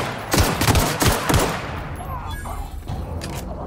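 Gunfire in The Outer Worlds: a few heavy, closely spaced shots burst out early, then fade into a quieter tail with faint clinks and game sounds.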